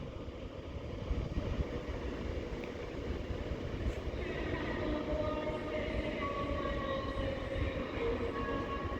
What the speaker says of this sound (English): With 390 126, which is heading off jolly now to its next stop of Lancaster.